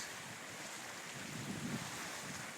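Waves roll across a bay whipped into whitecaps under a breeze, a broad continuous wash of surf and wind noise on the microphone, heard from a rock at the shore.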